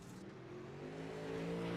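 A late model dirt race car in World of Outlaws Late Models at Kokomo drones on the track, its engine tone climbing steadily as it accelerates and grows louder over a couple of seconds.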